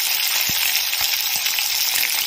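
Onion, green chillies, mustard seeds, cashews and biryani masala frying in hot oil for mint rice, making a loud, dense, continuous sizzle with a few faint low knocks, close up and without talk.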